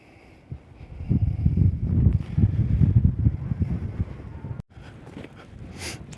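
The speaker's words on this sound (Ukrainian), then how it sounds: "Вибачайте, на полю вітер дує." Wind buffets the microphone in low, rumbling gusts across a frosty winter barley field, strongest in the middle, then easing to a lighter breezy hiss.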